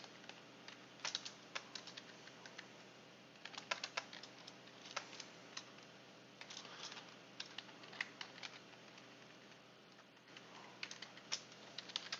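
Typing on a computer keyboard while coding in Ruby, a steady patter of light key clicks in uneven bursts with brief pauses, close and fairly quiet, with no talking.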